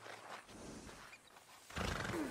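A horse in Red Dead Redemption 2 snorting and neighing, a soft whinny early then a louder, closer neigh near the end, with quiet game ambience between.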